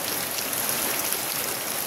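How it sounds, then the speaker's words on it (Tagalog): Heavy rain of large drops pelting down, a steady dense roar of spatter that runs unbroken throughout, fairly loud and close. "At malaki yung buo ng ulan."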